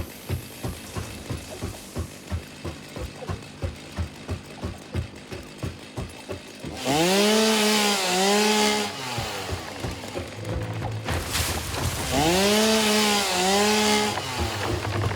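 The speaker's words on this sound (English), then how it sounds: "Chainsaw." Video-game chainsaw in Satisfactory felling trees: a rhythmic mechanical idle ticking at first, then two loud revving bursts of the saw biting into wood, each with rising and falling engine pitch, close and alone.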